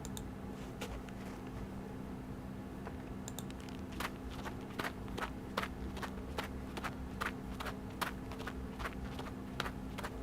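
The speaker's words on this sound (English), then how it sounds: "Oh yes, my favorite. Footsteps," Footsteps play as a sound effect, a steady series of sharp, even clicks starting faintly then falling into a regular walking rhythm over a low constant hum.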